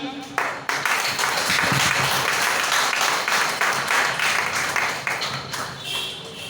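Audience applause welcoming a speaker at a seminar in Farrukhabad, steady close clapping that swells in after a brief pause and carries on for several seconds before easing, with a voice or two murmuring underneath.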